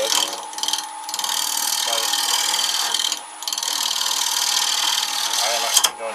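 Lathe tool cutting a tenon on a holly natural-edged bowl: a continuous scraping, rasping hiss of the gouge on spinning wood with brief pauses, near and loud, with someone speaking briefly.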